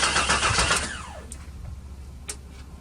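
A 1996 Chevy Tahoe with a suspected spark problem cranks: a loud, close burst of starter churning that fades off after about a second, followed by faint clicks.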